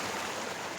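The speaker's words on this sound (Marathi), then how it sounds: "हा ठोसेकर धबधबा आहे." Thosekar waterfall at Satara pours with a steady, dense rushing wash of water, fairly faint and continuous, with no voices.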